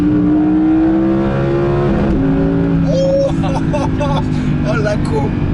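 A 2019 Audi R8 Performance V10 engine rises in a smooth, loud climbing pitch, dips briefly, then climbs again, close by, with someone talking over it.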